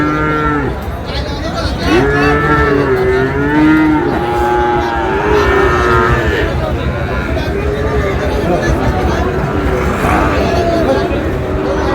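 Cattle moo repeatedly, long drawn-out lows from several animals close by at a livestock market in Dinajpur, Bangladesh, over a constant background of crowd chatter.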